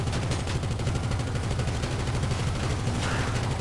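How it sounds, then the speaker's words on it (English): Guns fire in GTA Online as a dense, continuous barrage of rapid automatic shots with low thudding rumble throughout, loud and steady with no clear pauses. "Spin up the guns."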